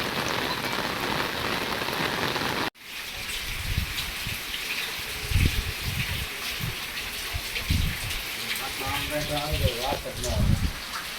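Heavy monsoon rain pours down in a steady loud hiss, then continues more softly with drops spattering nearby while people talk and call out over it.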